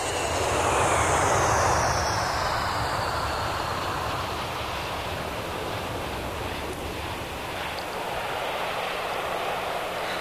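Loud, steady roar of a passenger airplane's engines, a broad continuous rush that swells slightly near the start and then holds evenly throughout, with no voices.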